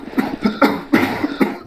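A person coughs repeatedly in a horror map session of Minecraft, five close, loud coughing bursts in an uneven rhythm with no talking.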